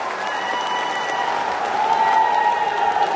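Loud, continuous applause from a large crowd at a BJP rally in Rajasthan welcoming Amit Shah, steady clapping with a sustained tonal hum underneath and some cheering mixed in.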